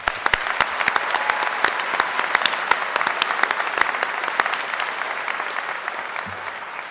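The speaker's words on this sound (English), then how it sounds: "One more round of applause." Sustained audience applause at a Uniformed Services University of the Health Sciences commencement ceremony, many hands clapping steadily and densely throughout, loud and even, with no talk over it.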